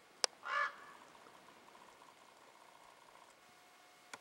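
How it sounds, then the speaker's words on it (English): A single harsh caw from a crow sounds outdoors in open backcountry, moderately distant, followed by quiet ambience and a few faint clicks. "It's my friend the crow."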